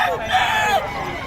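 Roosters crow among clucking chickens at a poultry market in Bocaue, one loud, near crow rising and falling over about a second amid the busy market background.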